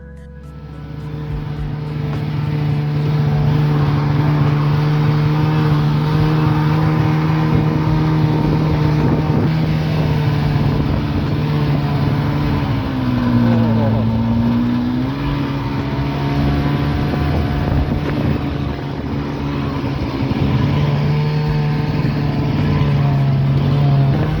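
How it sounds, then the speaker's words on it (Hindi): A loud snowmobile engine drones continuously up close while riding up and down snowy mountain trails in Sonmarg, Kashmir, its pitch dipping and rising briefly midway, with no talking. "जूम से स्नो में ऊपर नीचे होते हुए रास्तों से ये स्नो बाइक चल पड़ी।"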